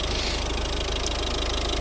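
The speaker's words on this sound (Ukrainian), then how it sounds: "Так, ось наш двигун знаменитий. D2 Peugeot Citroën розробка." A 2010 Volvo V50 with the 1.6 D2 diesel engine, a Peugeot Citroën design, idles up close under an open bonnet with a steady, even clatter and no voices.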